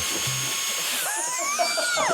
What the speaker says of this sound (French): on dirait une turbine de petit avion de modélisme